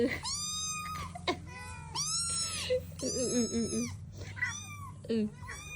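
A cat meows repeatedly, several drawn-out, wavering cries spread across a few seconds, some growly, close to the listener over a low background hum.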